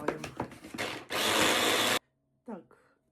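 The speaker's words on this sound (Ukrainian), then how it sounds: "Їх в блендер і перебиваємо." A blender whirs loudly for about a second as it purées frozen fruit, then cuts off abruptly; people talk before it starts and briefly again afterward.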